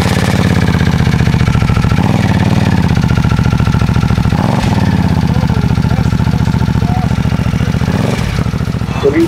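A 2023 Harley-Davidson Nightster Special with a 975cc engine, breather kit and S&S exhaust runs steadily at close range, a loud continuous idle rumble with a slight rhythmic throb, alone without talk.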